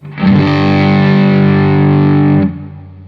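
A single guitar chord through a homemade fuzz pedal using a pyrite (fool's gold) junction, thick and distorted, sustaining loudly for about two seconds before cutting off.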